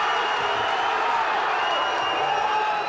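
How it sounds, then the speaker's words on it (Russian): Football fans in a sports bar during the 2018 World Cup applaud and cheer in a steady, loud wash of crowd noise, dense clapping and whoops, and a voice talks over it. "Денису Черышеву гости аплодировали стоя."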